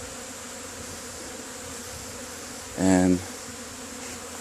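A busy cloud of honeybees flies around a strong backyard hive in fall, a steady dense buzzing drone close up, with one louder bee passing near the ear and a single word spoken.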